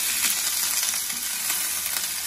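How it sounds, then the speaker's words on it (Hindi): Carrots and peas frying in a pan for a restaurant-style vegetable biryani, giving a steady, dense sizzle that stays loud and close throughout with no talking. "इसके बाद हम ये भी डाल देंगे, गाजर भी डाल देंगे और मटर भी डाल देंगे। अब इसको क्या करेंगे, थोड़ा फ्राई करेंगे।"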